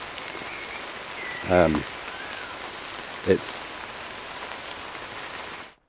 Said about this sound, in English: So if you listen to that rain now,